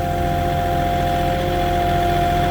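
A Moffett truck-mounted forklift labours up an off-road hill on uneven ground, its engine giving a loud, steady droning rumble with a constant tonal whine and no pauses.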